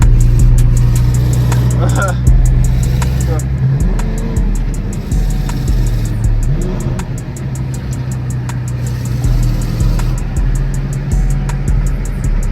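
Road traffic at night from inside a Chrysler 300, with a steady low engine and road rumble throughout, passing vehicles swelling by, and voices talking over it.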